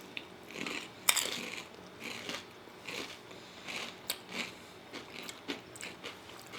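Doritos eaten with peanut butter, heard as soft, close crunching bites and chewing in an uneven rhythm, with one sharper crunch near the start and no talk.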